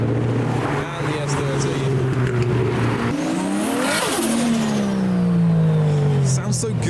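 A Nissan S13 engine revs hard as the car passes at a street car meet, its pitch climbing and falling with a sweep past the listener, loud and continuous under other traffic noise.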